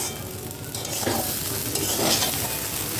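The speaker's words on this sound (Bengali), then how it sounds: "এই যে খুঁতগুলো দিয়ে দিছি এখন এটা সুন্দর করে ভাজা ভাজা করা লাগবে" Broken rice sizzles loudly in hot oil with onion, garlic, cinnamon, cardamom, cloves and bay leaf, a steady close crackle with the scrape of stirring and no voices.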